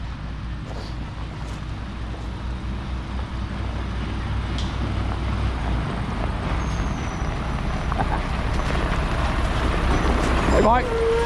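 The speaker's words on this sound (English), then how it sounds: "So I've got another load of gravel coming from Mike" A truck brings a load of gravel for a ribbon driveway, its engine rumbling nearer and louder throughout with a brief hiss of air brakes near the end.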